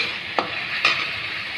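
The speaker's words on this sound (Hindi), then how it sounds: "तो हल्दी गुंड मिक्स करदेवा।" Turmeric powder is stirred into a frying cabbage, potato and tomato curry, with a soft steady sizzle and two brief spoon scrapes against the pan, close and without talk.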